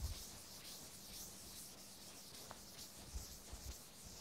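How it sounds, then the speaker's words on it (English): A board eraser rubs out writing during a mathematics lecture on definite integrals, giving a soft, continuous scrubbing swish with a few faint knocks, close and quiet. "I am rubbing this part."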